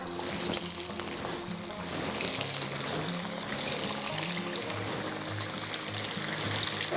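Wheat-dough batti pieces deep-frying in hot oil give a steady, dense sizzle and bubbling throughout, close and continuous, with faint stirring clinks and a low hum underneath, no voices.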